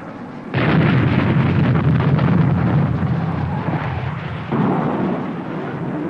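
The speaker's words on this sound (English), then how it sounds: "High explosive and armor-piercing incendiaries destroyed the fighter." Loud, sustained explosion as a radio-controlled jet fighter is destroyed by high-explosive and armor-piercing incendiary gunfire in a 1963 weapons test, a rumbling roar with a second surge partway through.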